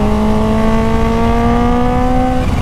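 A Kawasaki Ninja H2 motorcycle gives a loud, steady exhaust roar with a sustained high-revving tone that holds nearly constant, then drops off at the end; wind noise underneath, on a wet road.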